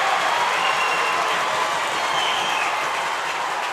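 A high school basketball crowd in a gym roars after a two-handed slam dunk in a Central Lyon vs Boyden-Hull varsity game, a steady, dense wash of cheering and applause that holds loud for several seconds.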